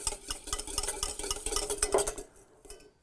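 Dijon mustard and cider vinegar being stirred together with a utensil in a bowl, a quick run of soft scraping clinks and taps, close and quiet, stopping after a couple of seconds.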